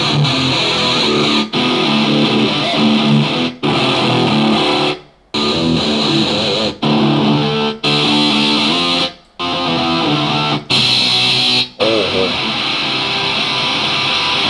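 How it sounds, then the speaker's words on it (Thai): Distorted electric guitar strums loudly in repeated bursts separated by short pauses, with heavy effects coloring the tone. "เดี๋ยวเราลองฟังเสียงกันดูว่าถ้าใส่เอฟเฟกเข้าไปมันจะเป็นยังไง"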